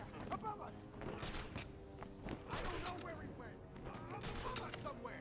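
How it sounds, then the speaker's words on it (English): Gunfire in the Batman: Arkham Asylum video game, dense rattling shots mixed with game noise and talk throughout. "I'm being shot at with bullet."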